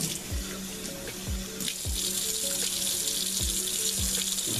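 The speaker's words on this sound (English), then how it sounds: "Now we're gonna rinse this Tumbler and get it really cleaned out so we're ready for the next cycle." Tap water runs steadily into a rock tumbler barrel being rinsed out, a continuous close splashing hiss with repeated low knocks and sloshes as the barrel is handled.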